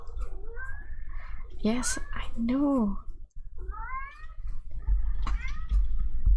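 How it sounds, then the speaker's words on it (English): A pet cat meows repeatedly at a closed door, drawn-out rising and falling cries coming in several bursts, close by, with a person talking quietly over them. "He's just gonna keep meowing at me."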